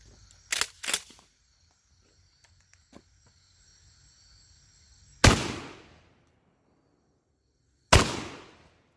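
A Tristar Raptor 12 gauge semi-auto shotgun fires 3-inch turkey loads outdoors, two loud, sharp blasts several seconds apart, each trailing a brief echoing decay, after some faint handling clicks.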